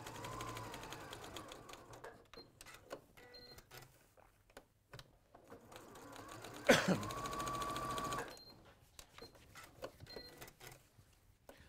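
A sewing machine stitches through layers of fabric in quiet, clattering bursts of rapid mechanical needle action, with a louder surge in the middle and brief pauses between runs; no voices over it.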